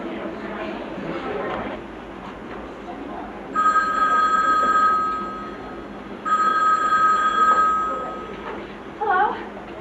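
A telephone rings onstage during a live theatre play, two long electronic ring bursts a few seconds apart that sound clear and fairly loud over the room's murmur and a faint background voice.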